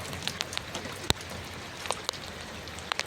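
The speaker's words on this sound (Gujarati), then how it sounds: "તો જોઈ શકો છો વરસાદ પડી રહ્યો છે" Rain falling outdoors during the monsoon season, with distant hills in view: a steady broadband hiss of rainfall with scattered sharp drip and splash ticks, one louder close impact, all at a fairly quiet level and no talking.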